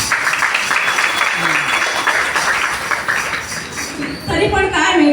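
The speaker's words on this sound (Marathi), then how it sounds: "टाळ्या होऊन जाऊ द्या" Sustained audience applause at a Mangalagaur cultural gathering, dense continuous clapping that fills the clip before a voice starts speaking near the end.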